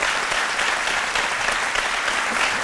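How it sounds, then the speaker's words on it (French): Studio audience applause on a French midday talk show, dense and even clapping that holds at a steady level throughout, with no voices over it. "je pense qu'on doit vous applaudir."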